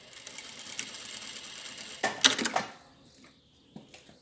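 A sewing machine stitches a fabric face mask in short bursts, with a quick rattling run near the middle and quieter stitching before and after.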